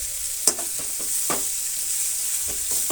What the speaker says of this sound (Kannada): ಹಸಿಮೆಣಸಿನ್ಕಾಯಿ ಕೂಡ ಒಂದು ಅರ್ಧ ನಿಮಿಷ ಹಾಗೆ ಫ್ರೈ ಆಗಲಿ.